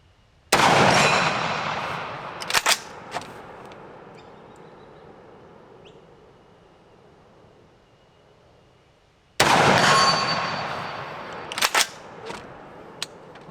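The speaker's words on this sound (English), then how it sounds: "I'm going to fire some more shots." Rifle shots fired at targets outdoors with a clip-on thermal adapter fitted, two sharp loud reports several seconds apart, each followed by a decaying echo and a few small clicks.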